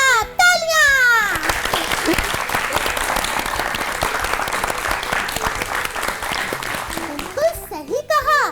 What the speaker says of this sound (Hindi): बिल्कुल सही जवाब, तालियां।